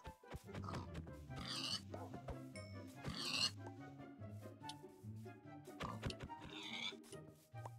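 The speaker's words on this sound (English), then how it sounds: "A bunch of pigs." A group of pigs in the Minecraft video game oinks and grunts in repeated short snorts, moderately loud, with a few faint sounds from other animals mixed in.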